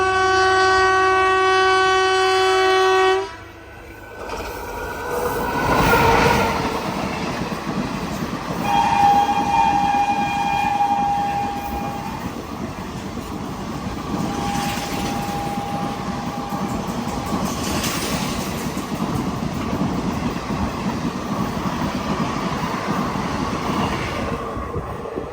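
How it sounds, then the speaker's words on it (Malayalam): Kacheguda Murdeshwar Express train running, opening with a long loud horn blast, then steady rumbling and clattering of wheels on rails with faint distant horn tones along the way. "ട്രെയിൻ ഇപ്പോൾ അടുത്തൊരു സ്റ്റേഷനിലെത്തി, പടുബിദ്രി."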